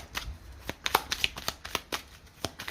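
Oracle cards riffled and shuffled by hand in a quiet room, a string of quick, crisp papery slaps and flicks in an uneven rhythm, close and fairly soft, with no talking over them.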